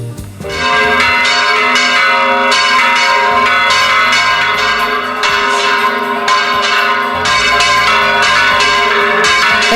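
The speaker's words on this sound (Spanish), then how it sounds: "este bandeo de las campanas de la iglesia en la localidad de Codos, realizado a mano para dar la bienvenida a las fiestas" Church bells in the village church of Codos, Spain, swung and rung by hand for the start of the local festival, a loud, dense, continuous peal of overlapping clangs sounding close and alone.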